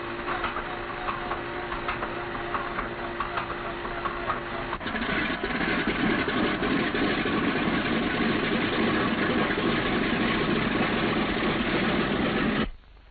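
A Boeing B-17 bomber's radial engine starts with a continuous rumbling drone that grows louder and rougher partway through, holding a steady idle before cutting off abruptly at the end.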